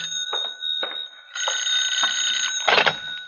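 An old telephone bell rings in a radio drama, several bright ringing bursts separated by short gaps, sounding clear and close with no talking.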